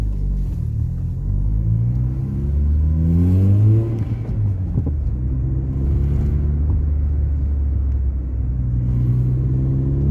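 A driving-lesson car with the gearbox already in first pulls away from a stop, its engine rumbling steadily and rising in pitch as it accelerates, loud and close throughout with no talking.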